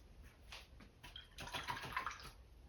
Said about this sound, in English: Rinse my brush out